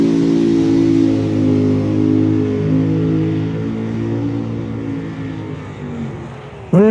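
Orange Anglia fuel altered drag car at Tucson Dragway, its loud engine rumbling and revving steadily up close before dropping off, then a sharp sudden rev at the very end; no voices.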